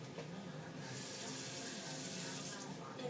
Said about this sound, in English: I'm just going to collect a little bit of water